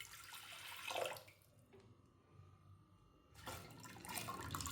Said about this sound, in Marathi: कुकर गॅसवर ठेवून त्यामध्ये पाणी टाकायचं आहे.